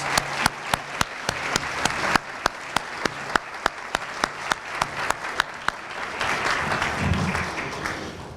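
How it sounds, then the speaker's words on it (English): Applause at a black-tie gala benefit in a ballroom. Sharp individual claps ring out clearly over a softer bed of clapping, then fade out. "if we could stand up and give everyone a round of applause"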